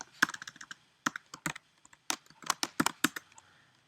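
Code is typed on a computer keyboard in close, crisp bursts of clicking keystrokes, irregular clusters separated by brief pauses.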